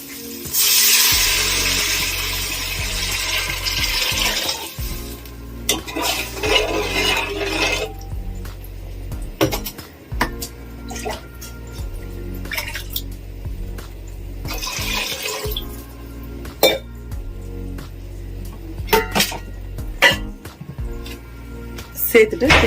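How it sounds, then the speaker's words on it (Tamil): Water is poured into a pan of frying onions and ginger garlic paste, raising a loud rushing hiss at first, followed by intermittent splashy bursts and scraping stirs. "இப்போ நம்ம தண்ணி சேர்த்துக்கலாம்."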